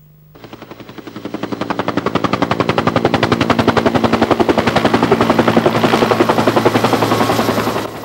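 Helicopter landing an infantry squad on a rise during a Bofors military demonstration with an M113 vehicle nearby, a loud, steady rapid rotor chop that swells in within the first second and holds strong throughout.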